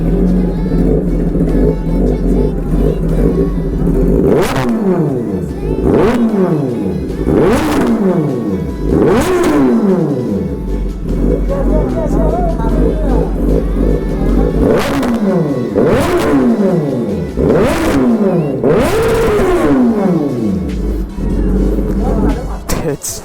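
Four Kawasaki Z900 superbikes on a ride to Kaziranga rev their exhausts in loud, close bursts, each throttle blip rising then dropping back to a rumbling idle, repeated about a dozen times.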